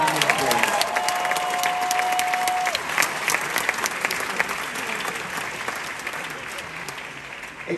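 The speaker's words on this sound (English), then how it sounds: "So give yourselves a round of applause." A Broadway theatre audience at Harry Potter and the Cursed Child, back after a long closure, breaks into sustained loud applause with scattered cheers, the clapping dense and steady before easing slightly toward the end.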